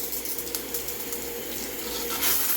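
Water sprays from the middle jets of a shower head, producing a soft, steady hiss that stays fairly quiet and continuous with no voices.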